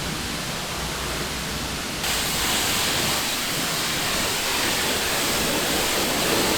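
Water sprays at a self-service car wash while a farm truck is washed, a dense continuous hiss that jumps louder after a couple of seconds and stays steady.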